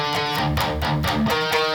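A distorted electric guitar plays the harmony riff of guitar part one from a song, with dense, heavy chugging notes in a fast, pulsing rhythm, loud and close with no voices.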